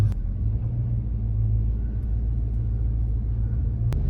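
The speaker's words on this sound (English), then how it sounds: "Hooked up, motor into 4, just gonna drive real slow." Low, steady engine rumble from a vehicle with the motor in fourth, hooked up and hauling slowly across a backyard lawn. The drone is close and constant, with no revving or speech.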